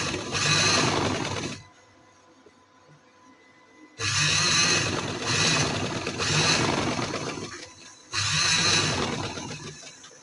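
A sewing machine stitches fabric in three loud, close bursts of rapid needle whirring, separated by short quiet pauses.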